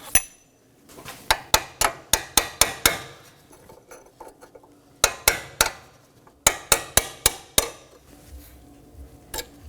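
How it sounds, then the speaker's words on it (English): Sharp metallic hammer strikes on a chisel knocking a metal clip off a Nissan Maxima front strut, in quick bursts of five or six ringing blows separated by short pauses, close and loud. "I'm going to strike this off with a chisel and hammer."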